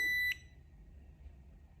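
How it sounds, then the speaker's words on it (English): A single sharp electronic synchronization beep from tractor pull lane timing equipment sounds at the very start, steady and high-pitched, then cuts off, leaving faint room noise. "we should hear a beep for each synchronization"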